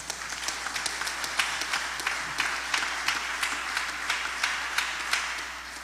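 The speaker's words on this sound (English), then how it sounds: "Can you please give them a round of applause?" Audience applause for the organizers at a debate event in Virgin Gorda, a steady wash of many hands clapping that carries evenly throughout from a moderately close position.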